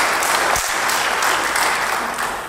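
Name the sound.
congregation applauding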